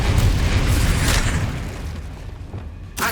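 Depulso force spell cast during a Hogwarts Legacy fight: a loud booming blast that fades over about two seconds, then a fresh sharp impact hits right at the end.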